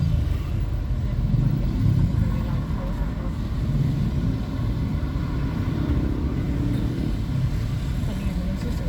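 A motorbike rides through traffic around Bandar Lampung, Sumatra, its engine a steady, close, low rumble that runs unbroken the whole time without clear revving peaks.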